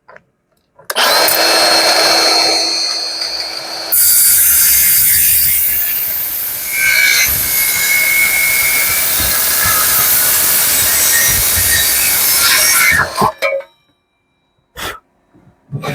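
A Milwaukee M18 Fuel cordless metal circular saw cuts through metal, its loud, steady, harsh whine running unbroken for about twelve seconds before spinning down, followed by a couple of brief clanks.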